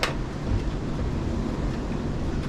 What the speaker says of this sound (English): Please excuse the wind noise.